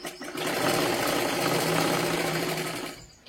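Sewing machine running steadily while stitching a princess blouse seam, a continuous close whirring hum of the needle mechanism lasting about three seconds before stopping.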